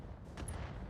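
A single sharp burst of weapon fire aimed at turrets in the mech combat game Roguetech, loud and close over a low rumbling background.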